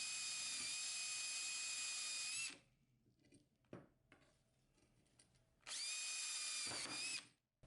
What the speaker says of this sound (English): whenever drilling metal, I like to use a smaller drill bit